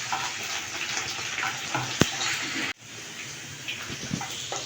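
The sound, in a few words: okra (bhindi) frying in a pan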